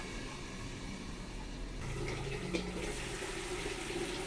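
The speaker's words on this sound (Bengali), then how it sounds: "দিয়ে দিচ্ছি পরিমাণ মতন জল" Water poured from a tap or jug into a pan of fish curry with cauliflower, a soft running splash that swells partway through and continues steadily.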